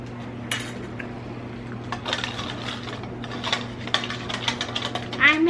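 A spoon stirs hair removal cream in a cup, giving a string of light scraping clinks and taps close by, irregular in rhythm over a steady low hum, with a voice briefly heard.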